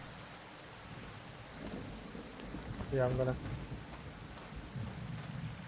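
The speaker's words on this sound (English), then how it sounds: "Oh, it's still raining, Jesus." Rain and low thunder in the survival game Project Cast Away, a steady wash of rainfall with a rumbling swell, mixed under someone speaking briefly.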